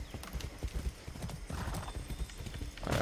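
Horse hooves clip-clop steadily in Far Cry 6 as a mount is ridden, loud, rhythmic hoofbeats with a brief whinny-like burst near the end and no talk over them.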